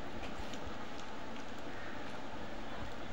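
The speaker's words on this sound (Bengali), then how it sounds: "দেখুন আমার তেলটা গরম হয়ে আসছে। আমি একটু উল্টিয়ে পাল্টিয়ে আমি একটু ভেজে নিব।" Beef and chicken kebabs fry in hot oil in a pan, making a dense, continuous crackling sizzle that stays even and close for the whole stretch, with no voices.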